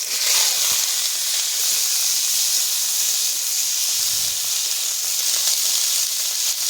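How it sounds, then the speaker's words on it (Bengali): Mixed vegetables frying in hot oil for a Bengali sabzi dal, giving a steady, close, continuous sizzle and hiss with no voices. "সবজিটা ভেজে নেব ডালের জন্যে।"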